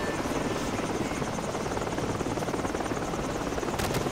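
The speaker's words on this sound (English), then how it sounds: "Choppers inbound!" Helicopters approach in a Call of Duty Modern Warfare battle mission, a loud, steady rotor thump and engine drone that fills the whole stretch without a break.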